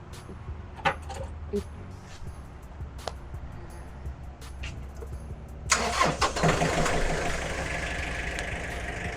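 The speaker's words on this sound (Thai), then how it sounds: "เดี๋ยวจะลองสตาร์ท รถให้ทุกท่านดูนะคะว่า เครื่องมันยังแน่นอยู่เลยนะคะ" A used Kubota-style EF514MU 51 hp tractor engine cranks and catches partway through, turning from quiet background clicks into a steady, loud running rumble that continues to the end.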